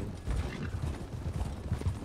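Horse hooves clip-clopping in a video game, a quick uneven run of close, soft thuds over a hollow rumbling backdrop, no talking.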